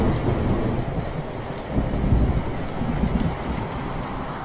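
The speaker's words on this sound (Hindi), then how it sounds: "कुछ ही देर में बारिश के साथ साथ ओले भी गिरने लगते हैं।" Heavy rain mixed with falling hail over village crops during a thunderstorm, a dense, loud, steady roar of pelting drops with low rumbling and gusts throughout and no voices.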